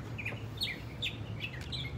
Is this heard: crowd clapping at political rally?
no